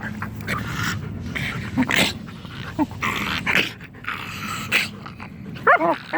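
A dog scuffle in which a pug whimpers and growls against a larger black dog, with repeated yelps and snarls close by, loud and continuous over several seconds, with little or no talk.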